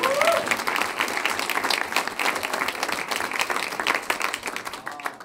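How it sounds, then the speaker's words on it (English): An audience claps in steady, sustained applause at a school board meeting, loud and dense throughout with a brief voice audible at the start. "Could the audience give them a round of applause again?"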